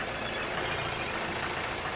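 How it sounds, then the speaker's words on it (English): A 2013 Vauxhall Astra J 1.7 CDTi diesel engine idles steadily close by, a continuous low rumble with a slight flutter in its tone and no voices. "So listen to the engine here."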